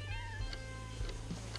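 A therapy cat in the management game Two Point Campus meows several times in quick succession, short soft calls over a steady background music bed.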